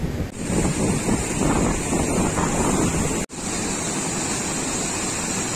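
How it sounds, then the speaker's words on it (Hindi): Fast-flowing Baspa river in the Baspa Valley of Himachal Pradesh, a loud, constant roaring rush of turbulent water with wind buffeting the microphone and a brief dropout partway through. "इस पॉइंट पे आते आते नदी का बहाव बहुत ही तेज हो गया"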